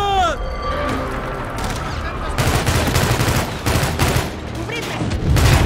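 Rapid gunfire in the Call of Duty Infinite Warfare video game, dense bursts of automatic shots and scattered reports running throughout, loud and close, with shouted voices mixed in.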